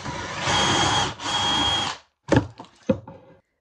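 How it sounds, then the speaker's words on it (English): A power drill bores pocket holes through 1x4 wood boards in a Kreg Jig, two sustained whining runs in a row, then a pause and a couple of sharp wooden knocks as the pieces are handled, close and loud. "I used a Kreg Jig to drill 4 holes to connect the 1x4s together"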